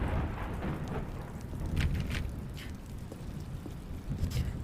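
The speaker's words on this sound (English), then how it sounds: "The way it started raining and thundering, gray skies." Steady rain pours with rolling rumbles of thunder in The Stanley Parable: Ultra Deluxe, a continuous wash of rainfall with a few brighter thunder swells rising and fading, no voices present.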